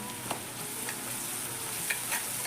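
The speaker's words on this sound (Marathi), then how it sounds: "आता अर्धा चमचा हळद पावडर टाकायची आहे" Turmeric powder sautéing with chillies in hot oil, a soft continuous sizzle close by with a few faint scraping stirs, no speech.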